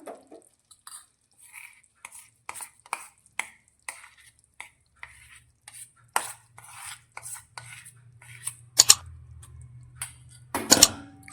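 Ground peanuts being stirred into melted jaggery in a pan for soft peanut chikki, flame off: irregular scraping and tapping of a spoon against the pan, scattered clicks growing louder and thicker toward the end.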